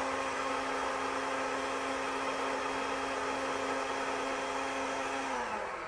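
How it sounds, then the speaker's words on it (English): A blender runs continuously and loudly, liquefying a ginger and olive oil drink in one steady whirring roar that barely changes, with its motor pitch dropping slightly just before it stops, and no voices. "But you put it in a blender and liquefy it like that for just a minute"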